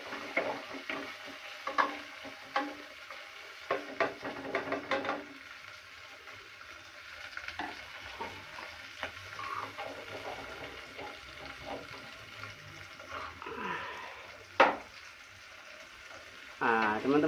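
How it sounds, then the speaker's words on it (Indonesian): Chilies frying in a pan are stirred with a utensil, making scattered scrapes and sharp clacks over a soft sizzle, with quieter stretches between bursts of stirring. "Nah, ini cabenya kita masukkan ini ya, cabenya. Kita aduk-aduk seperti biasanya."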